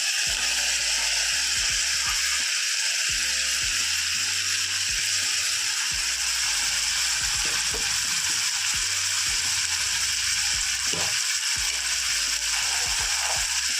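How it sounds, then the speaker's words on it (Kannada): Beans, carrot, potato and capsicum frying in oil, a steady broad sizzle running throughout with scattered stirring clicks and scrapes, no voices. "ಎಣ್ಣೆ ಒಂದು ಸ್ವಲ್ಪ ಫ್ರೈ ಮಾಡ್ತಾಯಿದ್ದೀನಿ"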